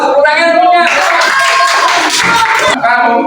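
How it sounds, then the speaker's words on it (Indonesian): Classmates clap for a student after a turn in a classroom session, a loud burst of hand clapping mixed with children's voices talking over it. "Ayo tepuk tangan temennya."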